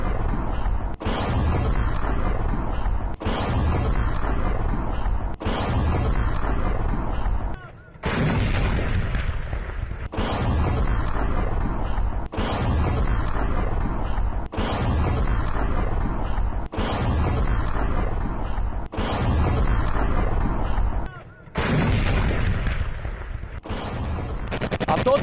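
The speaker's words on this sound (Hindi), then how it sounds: "M48 आर्टिलरी से यह विनाशक अटैक अंजाम दिया गया है" M48 artillery fires over and over in an attack on rebels near Hama. Roughly ten heavy booms come at regular intervals of about two seconds, each one a loud broadband blast that trails off into a rumbling echo.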